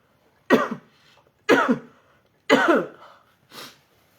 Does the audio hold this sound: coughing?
yes